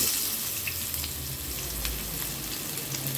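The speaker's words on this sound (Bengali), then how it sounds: "এবার একে একে সমস্ত মাছগুলোকে আমি তেলে দিয়ে দিচ্ছি ভাজবার জন্য।" Hilsa fish pieces fry in hot mustard oil, giving a steady, soft crackling sizzle close by, with faint watery bubbling and no talking.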